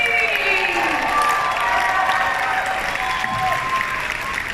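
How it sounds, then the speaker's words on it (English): A convention audience claps and cheers steadily after an improv comedy scene, a full, sustained round of applause with whoops and whistles rising from the crowd. "Keep that applause going for number acting, Alex and Shelly"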